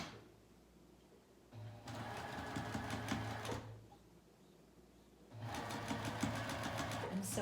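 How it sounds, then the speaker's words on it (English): A sewing machine stitching a pocket onto pajama pants runs in two bursts of steady mechanical whirring, separated by a quieter pause, heard close and alone. "I'm sewing the pocket."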